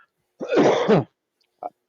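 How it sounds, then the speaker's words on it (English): A man breaks off mid-conversation to cough. One harsh, throaty cough is heard up close, then a faint short catch of breath. "Oh, excuse me, I'm coughing."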